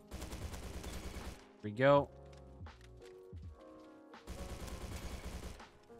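Sten submachine gun with a short barrel firing in the Roblox shooter Bad Business: dense rapid automatic bursts at the start and end, with a brief tonal game sound between them and a short spoken phrase.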